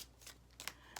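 Tarot cards are tossed and shuffled by hand in a few quick, crisp riffles and flicks, close and quiet, with nobody speaking.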